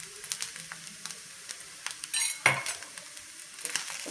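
Sabudana khichdi being stirred with peanut powder in a frying pan, with a soft sizzle under scattered close scrapes and clinks of the spoon and one louder knock against the pan.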